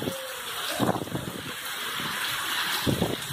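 Heavy rain lashes down in a strong windstorm in Cacimba de Dentro, Paraíba, a broad rushing wash with gusty swells and bursts of wind buffeting the microphone, no voices.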